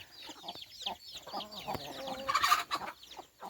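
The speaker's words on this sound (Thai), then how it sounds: "ไก่นี่คือไก่" Small chickens clucking and chirping close by, a run of short irregular calls with a louder burst midway.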